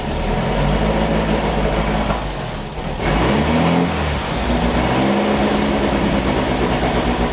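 Beck 550 Spyder replica engine held at around 2,000 rpm, a loud throbbing drone that dips and stumbles midway before picking back up, uneven and faltering.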